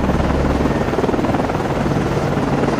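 A helicopter launching from a Perry-class frigate, USS Nicholas FFG-47, in the Cold Waters naval game, a loud dense rotor and engine roar with a throbbing low pulse, close and continuous.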